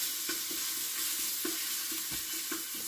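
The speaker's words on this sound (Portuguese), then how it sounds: "Agora eu vou fritar o alho." Pure crushed garlic frying in a pan, a steady close sizzle with a soft hiss, punctuated by regular light taps and scrapes of a utensil stirring; no one speaks.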